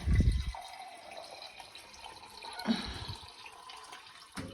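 Tap water runs while a glass is washed under it, a thin continuous splash and trickle after an opening clunk, with a brief louder knock near the middle and another at the end.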